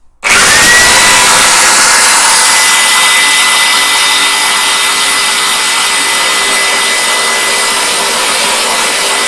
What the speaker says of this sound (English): let's get this drilled out